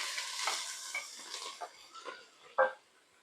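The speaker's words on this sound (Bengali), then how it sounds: "চিংড়ি মাছটা আমি আগের থেকে ভেজে নেব" Shrimp frying in oil in a pan with turmeric and salt for an okra stir-fry, giving soft sizzling, scraping and stirring sounds, close by, with a sharper clatter near the end and no talking.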